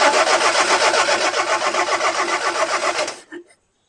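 A 1971 Toyota Celica TA22 with a working mechanical fuel pump cranks over in a steady, rhythmic churn for about three seconds, then cuts off abruptly into silence.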